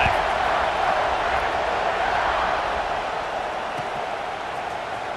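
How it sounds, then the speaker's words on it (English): A football stadium crowd at an Oklahoma vs Ohio State game roars steadily before a kickoff, a dense, loud wash of cheering voices that holds throughout. "this crowd is feeling themselves after that last drive"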